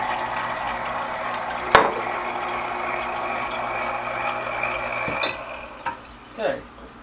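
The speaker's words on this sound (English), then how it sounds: "I'm just going to rinse it with some water because the pulp" Water swishes and sloshes inside a Vitamix blender jar being rinsed of pulp, with a few sharp knocks and clunks of the container nearby.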